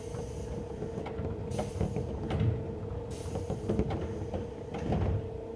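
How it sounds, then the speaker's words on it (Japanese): Train doors slide shut in the PS3 Railfan game on a Tokyo commuter line, with a series of close knocks and clunks over a steady humming engine bed and a faint tonal line. "ドアが閉まります。"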